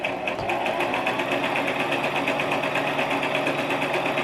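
A sewing machine running fast and steadily, stitching back and forth over thrifted fabric near a safety pin, a close, even mechanical whir with rapid needle chatter and no pauses.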